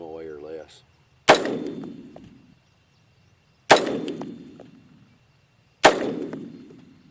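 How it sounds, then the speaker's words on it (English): Three loud, sharp rifle shots spaced a couple of seconds apart, fired with factory Fiocchi ammunition from a Bear Creek Arsenal AR upper during sighting-in, each with a ringing decay, after a brief tonal sound at the start. "I'm going to shoot a group with this factory Fiocchi"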